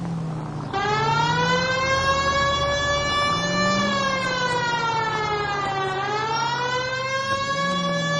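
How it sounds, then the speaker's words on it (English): A police car siren in the video game L.A. Noire wails loudly and continuously, its pitch sweeping slowly up and down in long cycles, close and dominant with no talk. "We have a siren."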